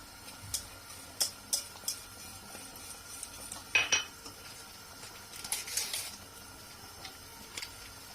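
A spoon stirring milk pudding in a metal pot, a series of light scrapes and clinks against the pot sides, sparse and close with quiet gaps between strokes.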